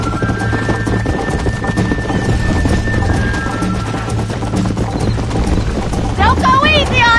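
Hooves clip-clop in a fast gallop from a horse in the Western video game Red Dead Redemption 2, steady and close under loud game sound, with a brief whinny near the end.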